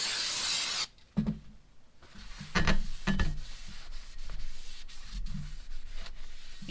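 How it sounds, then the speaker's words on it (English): Brake cleaner hisses in a loud spray onto bare brake rotors on a third-generation 4Runner, then cuts off, followed by close scrubbing and rubbing strokes as a rag wipes the metal. "we're going to want to brake clean these and then wipe them off with a rag"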